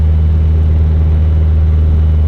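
A light aircraft engine drones as power is reduced on a circuit over Zell am See in the Alps, a loud steady low rumble with a constant hum that fills the whole moment, no voices.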